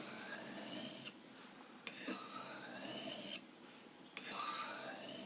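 Steady strokes of an ESEE Izula knife blade drawn freehand across a sharpening stone, a run of scraping rasps in bursts separated by short pauses, close and moderately loud with no talking.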